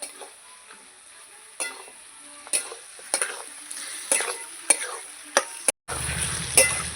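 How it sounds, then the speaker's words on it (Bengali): Mutton with spices sizzling in a pan as it is stirred and seared, with repeated spoon scrapes and clanks against the metal over a steady frying hiss, ending in a louder burst of sizzle. "ভালো করে নাড়াচাড়া করে এই মশলার সঙ্গে মাংসের সঙ্গে মেরে নেব এইভাবেই কিন্তু আমি খাসির মাংসটা কষাতে থাকবো"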